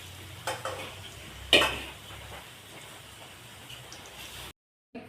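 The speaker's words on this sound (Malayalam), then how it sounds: "പകുതിയായിട്ട് പൊരിക്കട്ടോ" Soybeans fry in oil in a pan for pickle, a soft, continuous sizzle broken by a few sharp stirring scrapes near the start, then cutting out abruptly near the end.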